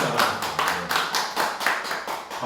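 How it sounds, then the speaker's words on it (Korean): A church congregation claps in encouragement, a steady run of close, loud hand claps in an even rhythm, with no voices over it. "박수로 격려해 주시죠."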